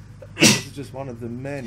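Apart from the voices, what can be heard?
sneeze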